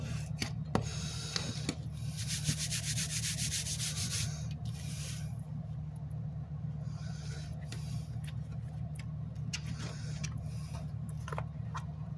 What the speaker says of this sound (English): So now we're going to go ahead and burnish all this down really well.